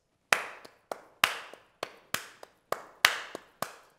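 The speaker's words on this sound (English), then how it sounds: "And the triplet, if you were to clap it, would sound like this." Hands clap in a triplet rhythm for a flamenco guitar lesson, eight sharp, close claps in uneven groupings with a stronger accented clap leading each group, heard alone with no talking.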